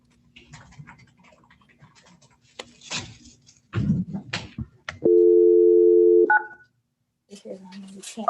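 A phone call placed from a judge's online meeting room: a loud steady dial tone holds for over a second, then quick touch-tone dialing beeps follow, with indistinct talk and rustling before and after.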